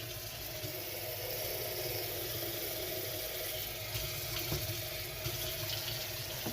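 Faint, steady trickle of water running into a container to make a shallow rinse for hatchling bearded dragons, a quiet continuous flow with a low background hum.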